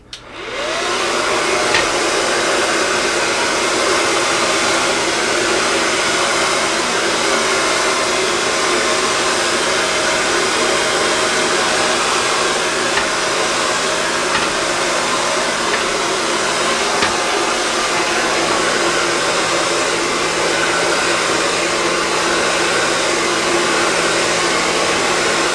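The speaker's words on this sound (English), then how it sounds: "at the end, I just blow dry everything up" A hair dryer runs steadily at close range for the whole stretch, blow drying a man's hair and beard with a loud, even rushing whoosh and no pauses.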